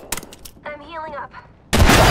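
Gunfire in an Apex Legends match, a few sharp shots at the start, then a loud sustained burst of firing near the end, with a synthetic voice line in between.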